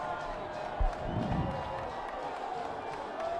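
Crowd at a high school football game picked up by a field crowd mic, a diffuse murmur of the stands with a low thump early on and a steady hum beneath.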